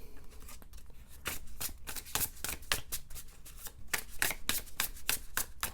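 Smooth tarot cards shuffled and riffled by hand, a steady run of quick, close papery flicks and slaps repeating for several seconds at moderate level.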